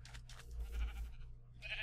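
Sheep bleating in the Minecraft world Life in the Woods, a short, faint nasal bleat heard alone against quiet game ambience.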